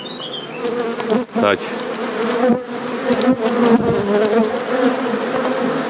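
Honey bees buzz loudly and steadily around an opened hive during a summer honey harvest, a dense close-up drone with a brief word spoken over it.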